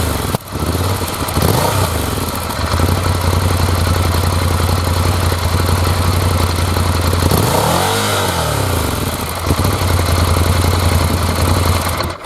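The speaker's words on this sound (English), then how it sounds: "Although the engine kind of wheezes to life when you start the bike" An old Ducati Scrambler motorcycle engine idling with a steady, throaty exhaust drone, loud and close, with a brief rise in revs partway through and no talk.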